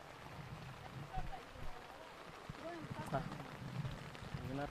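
Rain falling outdoors on a banana farm, a steady patter and drip heard under people talking, with a few louder drops standing out.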